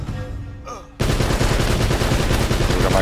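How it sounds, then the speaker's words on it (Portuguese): Rapid, continuous automatic gunfire from a machine gun in the video game Uncharted: Drake's Fortune, opening after a brief quieter stretch and then sustaining dense, loud bursts. "metralhadora?"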